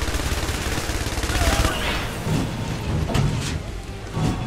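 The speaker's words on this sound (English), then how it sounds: "Machine gun is officially full power." A video game machine gun fires at full power in rapid, continuous bursts, loud and close, with someone talking over the shooting.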